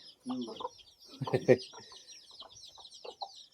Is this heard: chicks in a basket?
yes